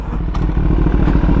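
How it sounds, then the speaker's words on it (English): A 2023 Kawasaki ZX10RR sport motorcycle on its first ride, its engine giving a loud, close, rough rumble with a clattering edge for a brief moment, with no talking. "First time riding a ZX10RR."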